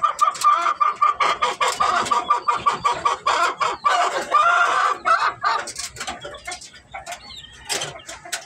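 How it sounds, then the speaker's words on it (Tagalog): Hens clucking steadily and close by in a backyard flock of native breeding chickens, a dense run of overlapping clucks and short calls with occasional louder squawks, no talking. "Napakagandang inahin yan guys."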